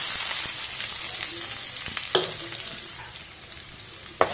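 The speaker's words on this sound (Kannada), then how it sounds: "ಸಾಸಿವೆ ಎಲ್ಲ ಚಿಟ್ಪಟ ಅಂದಮೇಲೆ ಮತ್ತೆ ಕಟ್ ಮಾಡ್ಕೊಂಡಿರೋ ಈರುಳ್ಳಿ, ಬೆಳ್ಳುಳ್ಳಿ ಮತ್ತೆ 2 ಒಣಮೆಣಸಿನ್ಕಾಯಿ ಹಾಕ್ತಾಯಿದ್ದೀನಿ" Chopped onion, garlic and two dry red chillies hit hot oil with spluttering mustard seeds for a traditional Karnataka soppina bassaru, giving a steady sizzle with a few sharp stirring clinks that fade slightly toward the end.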